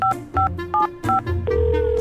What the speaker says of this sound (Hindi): मैं अतर को वापस कॉल कर रहा था।